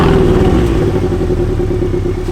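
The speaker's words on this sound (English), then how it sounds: "Now let's hear the exhaust in all its glory." Porsche 718 Boxster exhaust rumbling loud and close, a steady deep idle with a brief rev at the start.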